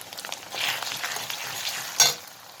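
Ginger paste and onion frying in a pan for mutton curry, a close, continuous hiss and sizzle with stirring scrapes and a sharp clatter near the end, no talk.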